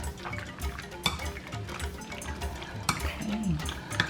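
Beef kebab ingredients are stirred together in a bowl for Ghanaian kebab: soft, wet mixing and rustling up close, with a few sharp knocks of the utensil against the side.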